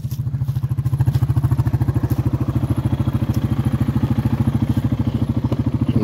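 Four-wheeler ATV engine running near a homemade hay unroller, with a steady, rapid low chugging pulse of an idling or slowly running engine close by and no talking.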